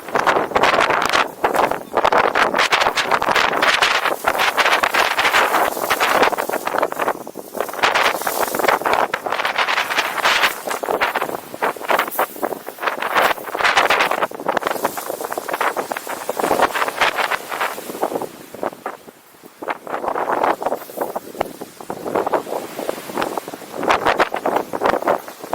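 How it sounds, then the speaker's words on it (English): Strong coastal wind buffets the microphone on the shore at Dungeness, a loud continuous roar with gusting surges and rustle, sustained throughout with a brief lull near the end. "the wind seems to have strengthened as well."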